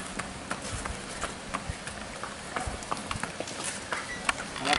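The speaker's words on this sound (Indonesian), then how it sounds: "dokter di sini ngajak jalan-jalan kuda juga ya" A horse's hooves clip-clop at a walk around an equestrian centre, a steady stream of close, fairly sharp hoof strikes over faint background noise.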